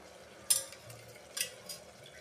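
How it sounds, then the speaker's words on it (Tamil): Chicken being stirred into biryani masala in a pot, two soft scraping swishes of a spoon against the metal over a low simmering hiss, close and quiet. "சிக்கன் போட்டுட்டு நல்லா கிளறி விடுக்கலாம்"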